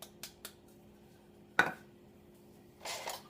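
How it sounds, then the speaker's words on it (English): A utensil clinks and scrapes against a pan while smoked paprika and salt are stirred in, with a few light taps, one sharper knock and a brief rasping stir near the end. "you're just going to stir it in a little bit so that all the flavors mix in together"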